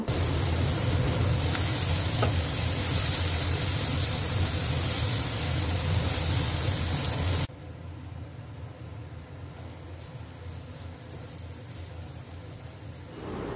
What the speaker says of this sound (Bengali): পেঁয়াজ কুচিগুলো কড়াইতে দিয়ে ভালো করে লাল লাল করে একটু ভেজে নেব